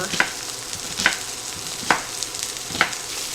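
Chopped onions frying in a pan for a Philly cheesesteak pasta casserole, a steady soft sizzle with four sharp scraping stirs spaced about a second apart, close and fairly quiet, no talking.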